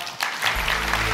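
Applause from a forum audience, beginning with a few scattered claps and then building into dense, steady clapping from a sizeable crowd over a low hum, with no talk over it.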